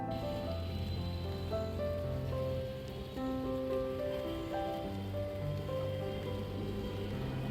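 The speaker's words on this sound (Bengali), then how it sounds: "সকাল সকাল বৃষ্টি পড়ছিল।" Early morning rain falls steadily, a soft continuous patter on surfaces heard fairly faint, with a faint tonal hum running underneath and no talking.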